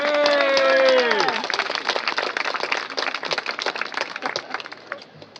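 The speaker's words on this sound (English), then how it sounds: "So let's give a big round of applause to" Audience clapping breaks out at a grand opening ceremony for a new community facility, a dense patter of many hands that rises as a voice trails off and then continues steadily.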